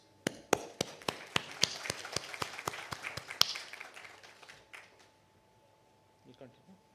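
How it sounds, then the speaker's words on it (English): A small audience at an accounting profession conference gives a round of applause: sharp, evenly spaced individual claps, fairly close and distinct, fading out after a few seconds, followed by faint voices. "a round of applause"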